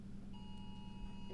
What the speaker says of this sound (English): Apparently there's a tornado alarm going off.